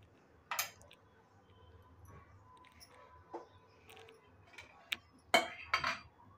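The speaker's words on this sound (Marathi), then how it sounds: "एक कढई ठेवले" A metal kadai set down on a gas stove gives a few short, faint clanks and scrapes with quiet gaps between them, the last knocks closest and loudest.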